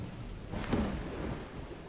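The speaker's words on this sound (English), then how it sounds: "Let's get a storm." A thunderstorm in the survival strategy game Dawn of Man: a single rolling rumble of thunder swells and fades over steady rain hiss, moderately near and alone without talk.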